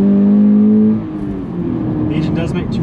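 A 2020 Subaru BRZ engine holds a loud, steady high-revving tone that drops off sharply after about a second, leaving a lower rumble with faint background noise.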